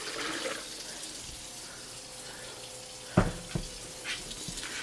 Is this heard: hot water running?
yes